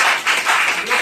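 Audience clapping at a venue program in Shankargarh, a dense, steady patter of many hands for about a second, filling the room at close range.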